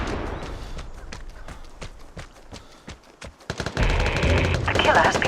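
Several guns fire in the video game Vigor: rapid distant gunshot bursts crack in an irregular rhythm, then a denser, louder barrage with a booming blast near the end.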